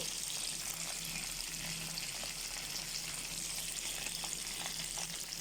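Chicken fries in a pan with a soft, continuous sizzle and faint crackles throughout, fairly quiet and steady with no talk.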